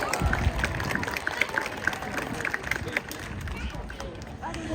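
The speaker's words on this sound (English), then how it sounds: "Let's get a little bit more applause going for Bunker there." An audience claps for Bunker the sea lion at an aquarium show at Long Island Aquarium in Riverhead, NY: steady, fairly distant clapping mixed with crowd murmur.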